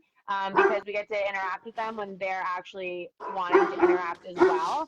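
A dog barks in repeated yips and bow-wows, close and fairly loud, tangled under a person talking continuously throughout.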